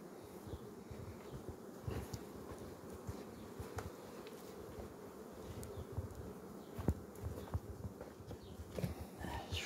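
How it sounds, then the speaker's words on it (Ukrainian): Honeybees buzzing at a hive during a lime honey flow, a dense steady hum of many insects up close, continuous and fairly faint with occasional clicks and knocks. "Бо бджолки працюють, 8 година ранку, а вони вже працюють."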